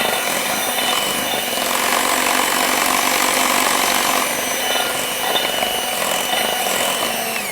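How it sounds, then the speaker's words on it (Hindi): An electric mixer beats cake batter as dry ingredients go in, whirring steadily and close with a constant buzzing drone throughout. "ड्राई इंग्रेडिएंट थोड़ा थोड़ा करके डालेंगे और बीट करते जाएंगे"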